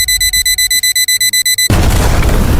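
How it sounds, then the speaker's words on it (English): An alarm blares from a robot car in a cartoon, loud rapid repeating electronic beeps that cut off abruptly into a roaring burst of noise. "a red alarm starts blaring from the car"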